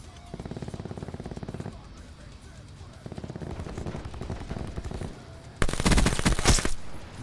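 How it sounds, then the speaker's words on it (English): Rapid automatic gunfire from the video game Call of Duty: Black Ops 4 comes in bursts, steady rattling volleys, then a louder, harsher burst near the end, with faint voices in the mix. "Who's shooting me?"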